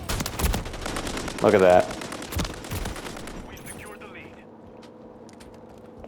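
Rapid automatic gunfire from a gunfight in Call of Duty Modern Warfare 3, loud bursts of shots in the first seconds that fade into quieter game ambience, with someone talking over it.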